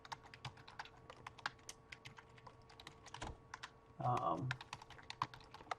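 A password is typed on a computer keyboard, a run of quick, light, irregular key clicks close up, with a brief burst of speech near the end.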